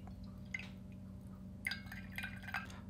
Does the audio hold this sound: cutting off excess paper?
no